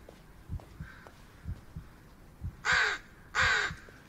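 A crow in the Blair Witch game gives two loud harsh caws near the end, over a slow, steady, low heartbeat-like thumping.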